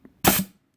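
A single short, sharp pop from a homemade air rifle firing, close and brief, with a faint click just before and silence after.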